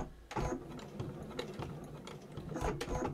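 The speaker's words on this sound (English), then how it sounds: "Little backstitch to hold." A sewing machine stitches a short backstitch on fabric for a pouch, giving rapid mechanical whirring bursts with a quick pause between runs, close and clear, with no talk.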